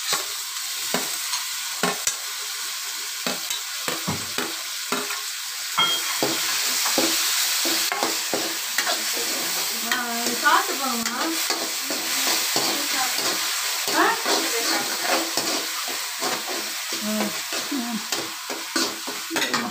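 Tomatoes sauté in a pan with golden-brown onions for egg kurma, sizzling under frequent clattering stirs and scrapes of a spoon, close and busy.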